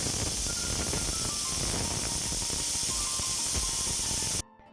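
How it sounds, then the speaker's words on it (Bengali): Steam releasing from a pressure cooker whistle, a loud, continuous hiss running close and unbroken for several seconds before cutting off abruptly. "প্রেশার কুকারে সিটি হয়ে যেতে আমি নামিয়ে দিলাম"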